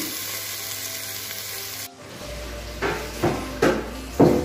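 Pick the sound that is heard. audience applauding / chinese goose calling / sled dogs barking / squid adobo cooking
squid adobo cooking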